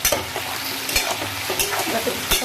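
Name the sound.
potatoes frying in a pan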